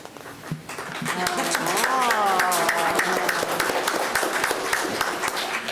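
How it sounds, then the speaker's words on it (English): A team applauds spontaneously at a work session, loud clapping running steadily throughout with voices talking over it. "Spontaneous applause from the team."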